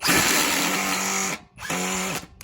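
A Ryobi impact driver whines loudly as it drives a screw in two bursts separated by a short pause, its motor pitch falling near the end of each run.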